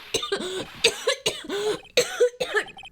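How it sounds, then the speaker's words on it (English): Coughing in the Phoenix Wright: Trials & Tribulations video game, a run of about five short, close coughing bursts with brief gaps between them. "Just try not to give me that cough of yours"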